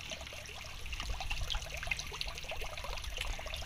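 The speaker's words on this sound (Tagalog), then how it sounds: "Meron pa rin siyang lumalabas na tubig pero okay lang yun." A small stream of water keeps trickling and dribbling out of a leak outdoors in Saudi Arabia, a faint, steady splashing patter heard close by without any voices.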